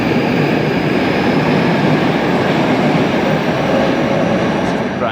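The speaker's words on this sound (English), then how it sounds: "I can hear a train coming" A Moscow Metro subway train arrives at the new Akademicheskaya station, a loud sustained rumble and roar of wheels and motors filling the platform, with a rising whine near the end.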